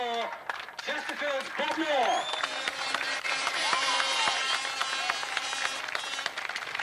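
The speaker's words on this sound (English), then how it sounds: "Bob Moore taking the applause of the crowd for that 2nd heat win" A speedway crowd applauds a second-heat winner, steady clapping and crowd noise running for several seconds, with a commentator's voice and some shouted voices over it.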